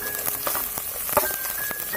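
Fenugreek, mustard seeds, chopped ginger, garlic and green chillies sauté in hot oil in a pan, giving a steady close sizzle with small crackles and pops.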